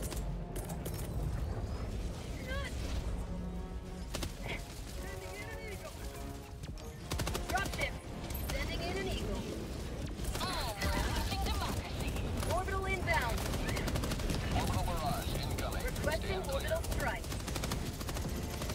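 A napalm barrage in Helldivers 2 pounds away as dense, continuous booms and crackling bursts, layered with rapid gunfire and heavy game sound for the whole stretch.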